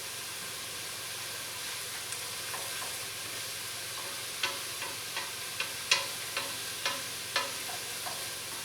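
Chopped onion softening in a soup pot for tortilla soup, a steady soft sizzle and hiss with several light stirring clicks and scrapes in the second half, no talking.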